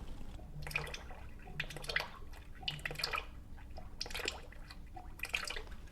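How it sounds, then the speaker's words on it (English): Soft, irregular drips and small splashes of engine oil falling from the drain of an Acura NSX into a container, close and quiet, in uneven bursts. "we're just going to allow this one to drip"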